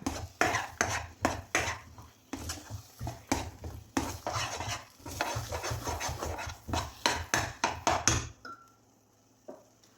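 Rava halwa with ghee and fried nuts being stirred to thicken in a pan: rhythmic, close scraping and clacking of a spoon against the pan, repeated strokes for about eight seconds, then near silence.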